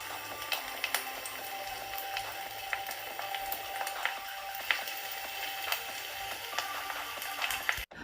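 Candied crushed pineapple is stirred in a hot pan for a pineapple upside-down yellow cake. A steady sizzling hiss runs throughout, broken by scattered scraping ticks from the utensil, with no talking.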